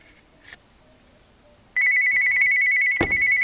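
A phone ringtone rings loud and steady as a single sustained electronic tone, interrupted by a sharp clack, while a Mercedes retractable cup holder is being reassembled nearby.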